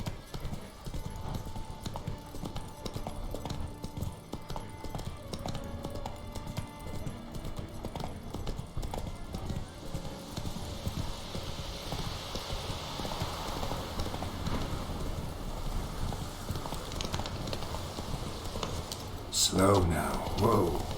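Roach, a horse in The Witcher 3, trots with continuous clip-clop hoofbeats at moderate volume over low ambient game sound, with a faint patter like rain in the background.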